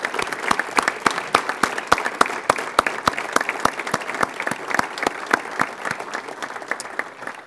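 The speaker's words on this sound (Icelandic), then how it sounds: "ég býð ykkur að gefa þessu fólki gott klapp og býð þau velkomin til starfa." Applause from the audience at a golf association meeting, a dense, even patter of many hands clapping at a steady brisk pace, moderately near and sustained throughout with only a slight easing at the end.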